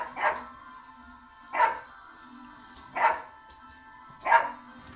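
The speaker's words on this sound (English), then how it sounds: "You are inside, the dogs are outside." Dogs bark outdoors in four evenly spaced single barks at moderate distance, each one clear and carrying over a quiet background, with no talking.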